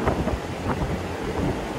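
Wind gusts buffet an open-sided broiler chicken house, a steady broadband rush with rumbling low swells, close and loud throughout with no speech.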